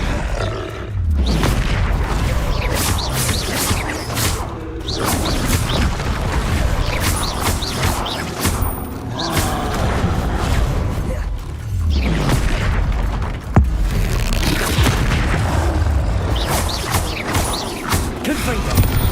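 Repeated booming blasts from Confringo fire spells in the Hogwarts Legacy video game, loud, dense bursts recurring every few seconds amid heavy combat clatter.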